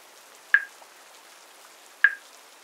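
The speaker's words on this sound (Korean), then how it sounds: "물방울 떨어지는 소리." Two isolated water drops fall about one and a half seconds apart, each a short bright plink with a quick decay, alone against a quiet, still background.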